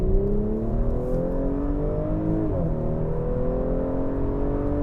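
A 2024 Audi S5 Sportback with a turbocharged V6 accelerates in dynamic mode, its engine droning steadily from inside the cabin as the pitch climbs, dips briefly at a gear change and then rises again.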